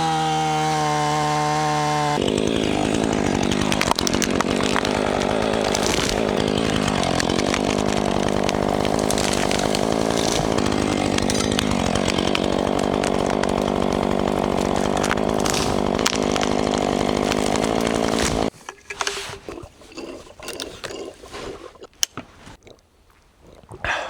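A chainsaw idles, then revs into a long, loud continuous whine of cutting while felling trees before cutting out, leaving scattered crackling and thuds.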